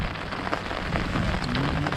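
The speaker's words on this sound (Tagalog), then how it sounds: "Inabot na kami ng ulan guys." Rain pours steadily over a rural peanut field during harvest in Occidental Mindoro, a dense, even hiss of drops hitting the surfaces with a faint low rumble underneath, and no voices.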